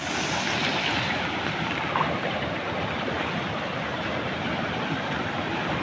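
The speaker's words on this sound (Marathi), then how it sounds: "हा आमच्या तुरवट्याचा ढुनक्याचा पर्याचा उपलडीचा बारका धबधबा." A small village waterfall in a stream gives off a loud, dense, unbroken rush of falling water, heard close and steady from start to finish with no voices.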